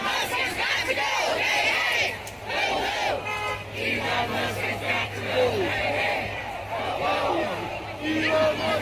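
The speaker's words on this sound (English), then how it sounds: "That's a great crowd on a cold, fucking rainy Wisconsin March day." Large outdoor protest crowd on a cold, rainy March day in Wisconsin, a steady dense roar of many voices with shouts and chanting rising and falling throughout, continuous and fairly loud.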